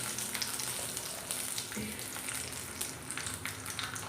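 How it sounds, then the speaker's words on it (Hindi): Red chilli cut into long strips frying lightly in a pan, a steady broadband sizzle running throughout the clip, close and even, with faint clatter and no talking. "इसको भी हम हल्की सी फ्राई कर लेते हैं"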